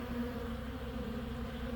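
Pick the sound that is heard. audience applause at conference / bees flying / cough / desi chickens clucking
bees flying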